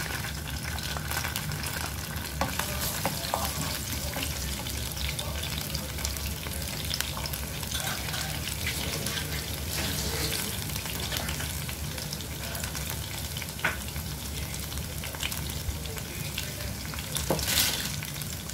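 Small chopped garlic pieces sizzle and fry steadily in hot oil in a pan, a close, continuous crackling hiss with occasional stirring clinks and no talking.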